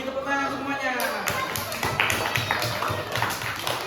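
Classroom applause from a class 4 group of pupils, a burst of scattered, uneven claps filling the room, mixed with children's voices and chatter.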